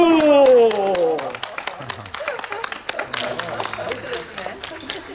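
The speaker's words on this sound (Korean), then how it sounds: "와. 박수!" A church congregation breaks into quick, scattered clapping right after a brief voice at the start, the claps building into a loose, fairly close patter that continues to the end.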